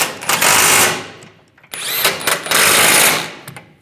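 A power tool tightens nuts on the rear bumper impact absorber of a 2007-2013 Chevrolet Silverado 1500, giving two loud buzzing runs of about a second each, separated by a short pause.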